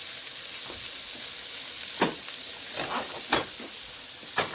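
Chopped vegetables sweating in a frying pan give a steady soft sizzle, broken by a few sharp scraping stirs of a utensil against the pan, close up with no talking.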